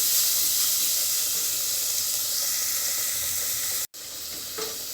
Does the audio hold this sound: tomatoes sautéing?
yes